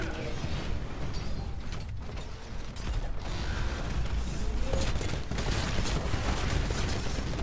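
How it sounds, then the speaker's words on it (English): Sustained rapid automatic fire from the XO16 chain gun in the shooter game Titanfall, a dense continuous mechanical rattle with clanking texture running loud and steady throughout, with game effects layered in. "you'll notice I'm using the XO16 chain gun"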